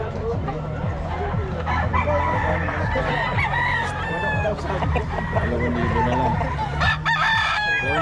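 Roosters crow repeatedly amid a noisy flock of clucking chickens, with several overlapping calls near and far.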